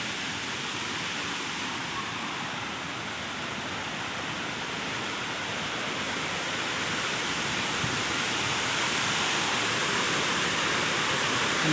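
Aadoshi waterfall near Khopoli roars as a dense, continuous rush of falling water, loud and even for the whole stretch with no voices above it.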